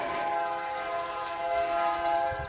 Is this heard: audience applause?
no